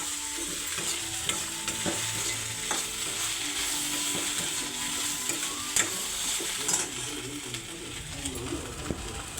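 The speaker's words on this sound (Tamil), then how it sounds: "இந்த ஈர சவுண்டு கேட்குதுங்களா, அது நின்றோடனே இந்த வெண்டைக்காயை அப்படியே இறக்கி வச்சிட வேண்டியதுதான்." Continuous crackling sizzle of okra frying in a pan, close up, with occasional stirring clicks and no voices.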